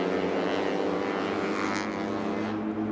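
A pair of Carbon Cub STOL aircraft with propeller engines running on nitrous at the STIHL National Championship Air Races, giving a steady, loud droning roar with a dense buzzing hum throughout, alone without talk.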